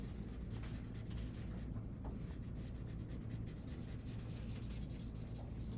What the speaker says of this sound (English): I'll just erase those super harsh outlines right now.